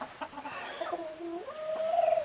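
Chicken-like calls from a barnyard rooster, a few short clucks rising into a drawn-out tonal cry, fairly close and moderately loud with no talking.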